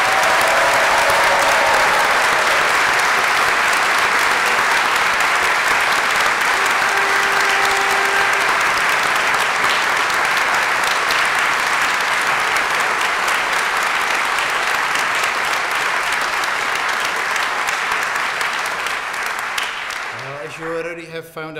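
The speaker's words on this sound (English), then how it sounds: "I think that deserves an extra round of applause." Sustained loud applause from a large crowd at a University of Reading graduation ceremony, dense clapping that holds strongly for about twenty seconds before tapering off at the end.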